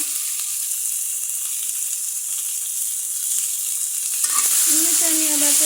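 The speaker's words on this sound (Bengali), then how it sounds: "পেঁপে আর ঢেঁড়স এর আগে দিয়ে দিই কারণ পেঁপে সিদ্ধ হতে সময় লাগবে" Papaya and okra hit a hot pan and sizzle steadily, with a broad frying hiss that grows louder and crackles more near the end; no one speaks.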